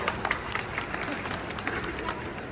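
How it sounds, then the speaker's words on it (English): Scattered clapping from a small street audience after a coin magic trick in a shopping mall in New Delhi, dense and steady with crowd chatter underneath. "You should clap loud if you like it."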